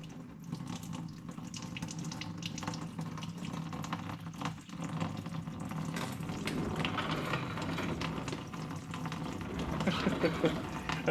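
Coolant from a 2018 Ford Focus pours and splashes into a bucket, a continuous running, trickling flow that grows louder toward the end, with a voice speaking softly over it.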